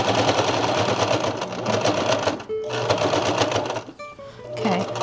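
A sewing machine stitches fabric in fast, even bursts, running loudly and close before briefly stopping and then starting again, with a short whir near the end.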